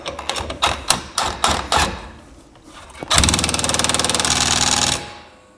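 An electric impact gun seating a wheel stud, first a series of short, separate bursts, then one sustained run of rapid hammering that is loud and close.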